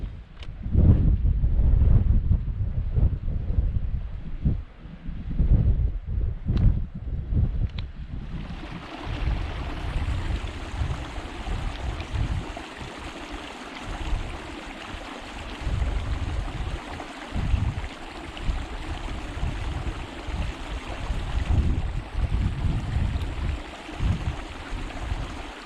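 Gusty wind buffets the microphone on a remote Howgill Fells hillside, loud rumbling bursts at first, then a steady rushing river close by fills the rest alongside lighter wind.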